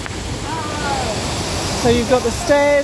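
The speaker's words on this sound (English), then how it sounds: "then you've got the waterfall here" Dyserth Falls after heavy rain, a constant broadband rush of falling water close by, with someone talking over it and a few birds chirping near the end.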